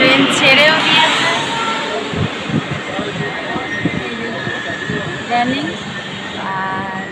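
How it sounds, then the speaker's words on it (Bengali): Passenger train from Howrah to Haridwar rolling along after departure, a steady rumble with rattles and faint squeals, under close conversation. "আমাদের ট্রেন ছেড়েও দিয়েছে"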